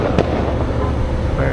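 Fireworks going off near the Enchanted Kingdom amusement park, a dense rumbling crackle with one sharp bang early on, loud and continuous for the short stretch.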